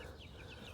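Hens softly clucking in a garden coop, faint and steady with a few brief higher calls over a low background hum, no talking.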